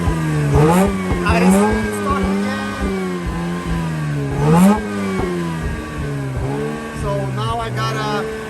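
A 2004 Mazda RX8 rotary engine, started after sitting for two years, revving in repeated rising and falling bursts close by, with a person's voice audible over the engine.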